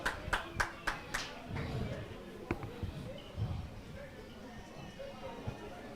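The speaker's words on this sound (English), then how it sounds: "A round of applause, please." At an award presentation, a handful of sharp, evenly spaced hand claps open the scene, then fade into a softer murmur of crowd noise with people talking.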